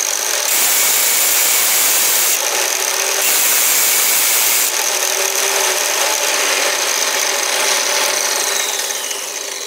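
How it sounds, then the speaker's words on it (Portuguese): A power drill and a sander running together while cutting grooves in a homemade grooved pulley, a loud continuous grinding, rasping roar with no pauses. "aí você liga as duas máquinas, a furadeira e a lixadeira"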